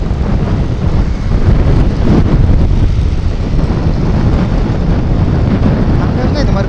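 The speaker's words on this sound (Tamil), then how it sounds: "நல்லா காற்று ஜில்லுன்னு அடிக்கிறதுனால" Wind buffets the microphone while riding on the road from Chennai to Vellore, a loud, constant rumbling roar that lasts the whole stretch.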